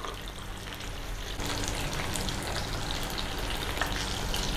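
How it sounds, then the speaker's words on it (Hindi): Round gourds (tinda) frying in a pan make a steady, fairly loud sizzle with crackling pops throughout, growing slightly denser partway through, and no talk. "अब ये हमारे ये टिंडे बहुत अच्छे फ्राई हो गए।"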